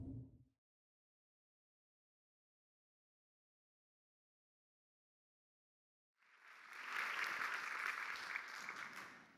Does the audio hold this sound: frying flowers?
no